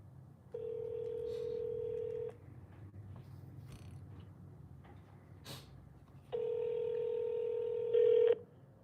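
A telephone dials out to place a call, with two long steady tones framing a stretch of quieter handling noise and faint clicks, the final tone stepping up louder just before it ends.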